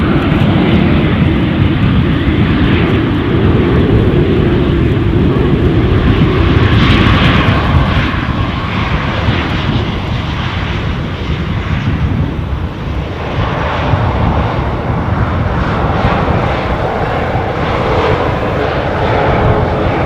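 A fixed-wing airplane at Edinburgh airport roars loudly and continuously near the runway, a broad steady engine rumble that swells slightly around the middle.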